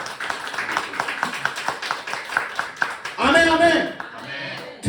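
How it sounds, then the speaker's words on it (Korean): A crowd claps in a steady rhythm while a voice speaks over it; near the end the clapping gives way to a louder spoken phrase. "Let us clap for our interpreter in the mighty name of Jesus"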